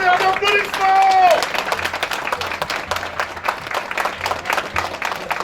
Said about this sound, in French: Allez, un tonnerre d'applaudissements!